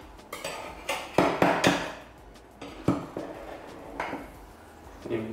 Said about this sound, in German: nehme ich ein Buttermesser, schneide ich hier etwas den Rand frei